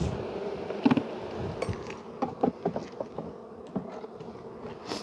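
Honeybees buzz continuously at close range around a hive, a dense droning hum with individual bees flitting past, and soft taps and rustles underneath.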